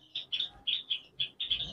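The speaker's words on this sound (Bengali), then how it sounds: "সৌরভ, এইদিকে কিন্তু গোল্ডেন ফিঞ্চ পাখিগুলো দেখুন" Golden finches in a breeding aviary give a quick series of about six bright, high chirps in a short, fairly regular rhythm. The calls are close and clear against a quiet background.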